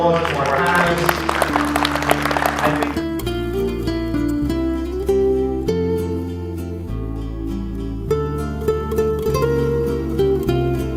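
Audience applause for a panel discussion on a broadcast program swells loudly for about three seconds, then gives way to steady instrumental music that carries on to the end.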